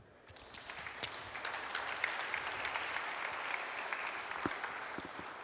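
An audience applauds to welcome two speakers onto the stage at a technical conference talk, a steady, moderately loud wash of many hands clapping that lasts several seconds with no voices over it.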